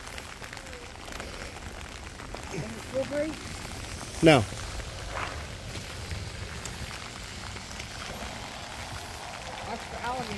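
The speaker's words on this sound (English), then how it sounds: "we thought it stopped raining some" Steady patter of rain falling outdoors at night near a bridge, a soft continuous hiss with a short word spoken partway through.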